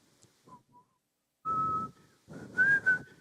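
A person whistles a slow, simple hymn melody in short phrases with pauses between them, close and clear against a quiet background.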